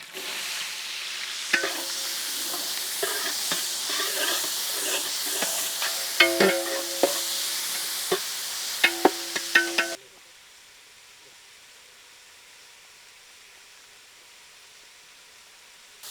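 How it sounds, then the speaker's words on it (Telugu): Onion pieces frying in a pan of oil and whole spices, with a loud, steady sizzle and occasional stirring scrapes and clinks for about ten seconds before it cuts to near silence. "ఉల్లిపాయ ముక్కల్ని దీంట్లో యాడ్ చేద్దాం."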